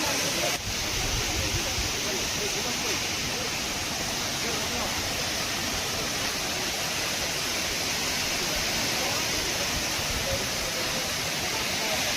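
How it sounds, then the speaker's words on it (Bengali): Waterfall at Ajodhya Hills in Purulia, a steady loud wash of falling and rushing water that fills the whole scene without a break. "জলটা ওই উঁচু থেকে পড়ছে আর এরকম নিচে নামছে।"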